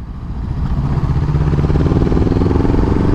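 A motorcycle engine drones steadily while riding, a loud, close, continuous rumble with wind noise and a slight rise in pitch as the bike picks up speed.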